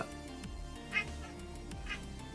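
A cat meows while watching a bird during home brewing, with a couple of brief, moderately faint meows heard over steady background hum.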